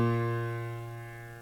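A single plucked string rings out alone with one clear sustained tone, rich in overtones, decaying slowly over about a second and a half.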